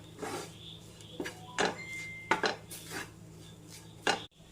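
A spoon stirs chicken masala spice powders in a pan, making a series of close scraping strokes and metallic clinks against the pan at an uneven pace, over a quiet background hum.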